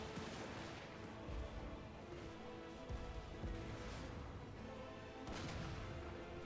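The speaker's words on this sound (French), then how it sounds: "Ah, les grands canons." Heavy cannon fire from a Warhammer Total War battle, dense booming blasts and crashes layered over continuous battlefield din, with stronger shots standing out around the middle and near the end.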